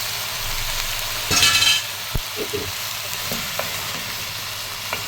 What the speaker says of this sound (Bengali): এখন কপিটা আমি কষাইতে আছি।